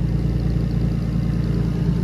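A turbocharged BMW E46 engine idles steadily and smoothly with a deep low rumble and no revving, close by.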